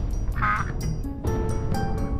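A few nasal duck quacks sound close and clear in short bursts, spaced irregularly over a soft background, with no one talking.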